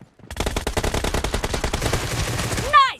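Assault rifle firing a rapid sustained burst in a video game team deathmatch, dense evenly spaced automatic shots close and loud for over two seconds, ending with a short whooshing game effect.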